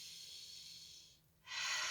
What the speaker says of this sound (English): And then exhaling on the way down.